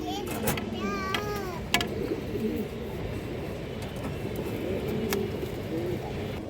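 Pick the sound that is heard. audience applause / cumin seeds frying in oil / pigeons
pigeons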